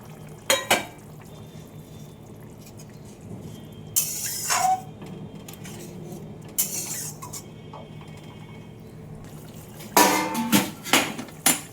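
Fried eggs slipping into a boiling egg-and-potato curry in a pot, with a few sharp clinks of utensils against the pot and soft splashes and stirring between quieter stretches of low bubbling.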